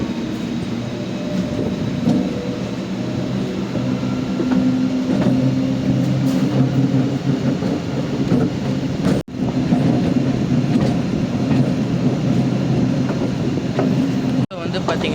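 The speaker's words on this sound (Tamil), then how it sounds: "நம்ம ட்ரெயின் வந்து இந்த ட்ராக்லேருந்து அந்த ட்ராக் போவோம்" Onboard the Trichy to Villupuram MEMU passenger train, a loud continuous rumble and rattle continues as it crosses points onto a loop line. Two brief dropouts break the noise.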